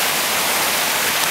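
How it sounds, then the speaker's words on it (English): A waterfall at a billabong, running after rain, pours as a steady broadband roar with no breaks, close and loud. "you can't hear anything else other than the waterfall"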